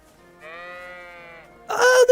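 A single drawn-out sheep bleat from the game Kingdom Come: Deliverance II in VR, clear and close, followed by a louder burst of brighter sound at the end.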